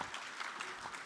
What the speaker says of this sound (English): Give Darren a big round of applause.